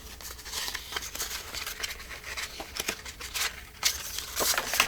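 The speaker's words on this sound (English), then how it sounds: "now I need to cut this next batch with this loopy type" Scissors snipping through a batch of paper Christmas tags along a loopy curved line, giving close, irregular crisp cuts and soft paper rustles with no talking.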